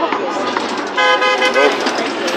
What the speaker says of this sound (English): the bus beeps.